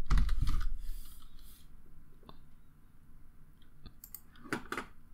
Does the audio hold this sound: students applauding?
no